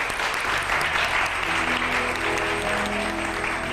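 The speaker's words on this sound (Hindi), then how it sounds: "तालियां बजाएं जी बहुत सारी।" Hearty applause from a studio audience on a Hindi variety show, a dense steady wash of many hands clapping at even loudness throughout, with faint background sound beneath.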